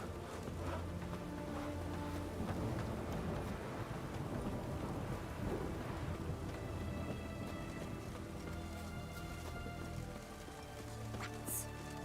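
Steady rain pours down in The Witcher video game, with low rolling thunder swelling underneath and a sharp bright crack near the end; dense, continuous and wide.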